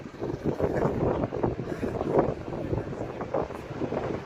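Water runs steadily from an outdoor tap as a thirsty cat drinks, a continuous close splashing rush with no pauses, and no one speaking over it.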